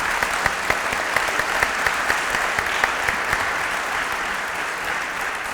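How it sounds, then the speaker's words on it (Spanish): An audience at a book presentation applauds steadily and loudly throughout, a dense wash of clapping with no pauses. "Les damos un fuerte aplauso."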